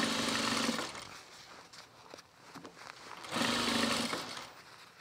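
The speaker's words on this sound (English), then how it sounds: "now I'm gonna hold it and just sew it in place" A sewing machine stitches a knit cuff onto a quilted bomber jacket in two steady runs, one at the start and one near the end, with quieter handling of the fabric in between.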